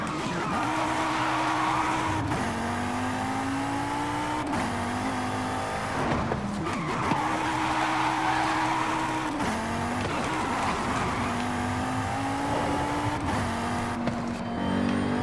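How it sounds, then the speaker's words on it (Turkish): Modified 2020 Audi TT RS tuned past 800 horsepower driving in Forza Horizon 5, a loud sustained engine drone climbing through gears with repeated tire squeals and skids, and a brief break at each shift. "bugün 2020 model Audi TT RS'i modifiye edip 800 küsür beygire ve neredeyse 1000 Nm torku ulaştırdım"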